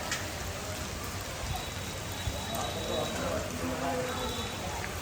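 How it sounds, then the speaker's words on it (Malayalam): Heavy rain pours steadily throughout outdoors on the way to the Taj Mahal in Agra, a dense continuous wash of drops on surfaces with faint voices underneath. "മഴ കൂടുന്നെന്ന് തോന്നുന്നു."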